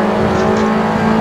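A TCR race car in Assetto Corsa at Watkins Glen, racing on fresh tyres as it pulls past another car, gives a loud, close, sustained engine drone for just over a second.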